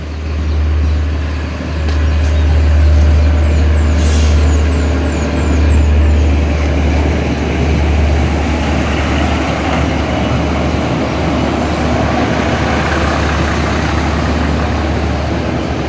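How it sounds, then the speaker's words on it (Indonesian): MCW diesel hydraulic locomotive pulling into Pasar Nguter station, a loud, steady engine drone with a deep hum, a brief high air-brake hiss early on, then the rumble continuing evenly. "engine MCW diesel hidrolik ya akan masuk di sini di stasiun Pasar Nguter."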